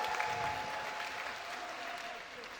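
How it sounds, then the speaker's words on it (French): An audience at a school talent show in Outremont claps for a singer, sustained applause at moderate volume that fades slightly toward the end, with no voices on top. "Elle mérite une autre applaudissement."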